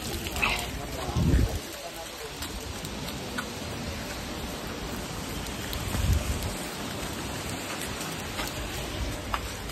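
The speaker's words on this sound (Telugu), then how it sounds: "ఫుల్ వర్షం స్టార్ట్ అయిపోయింది" Dense, steady downpour hissing across everything, with a couple of louder low rumbles and bursts breaking through the constant rain.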